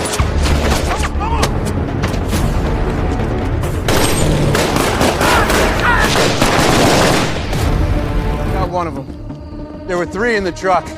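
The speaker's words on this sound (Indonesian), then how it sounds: "Mereka melepaskan tembakan" Bursts of gunfire and booming blasts crackle through a loud, busy action scene from the film The Rip (2026), with voices and dramatic sound layered over the shooting.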